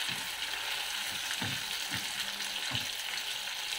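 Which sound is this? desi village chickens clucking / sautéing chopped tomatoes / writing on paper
sautéing chopped tomatoes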